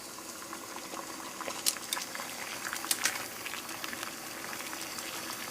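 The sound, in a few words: 16 oz of water at a rolling boil on a penny stove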